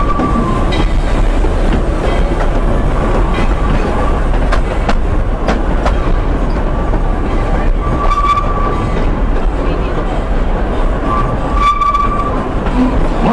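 A Tweetsie Railroad train rolls steadily along the tracks, a loud continuous rumble with metallic squeals and faint rhythmic clacking throughout, heard from on board.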